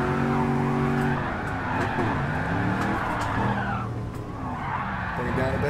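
Car tires skidding and squealing while drifting in GT Sport, played on a direct drive wheel rig, with engine revving and long screeching slides under a player's occasional talk.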